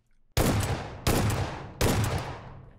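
An S12K shotgun fires three loud, close blasts in PUBG Mobile, evenly spaced, each with a sharp attack and a decaying tail, over a faint background.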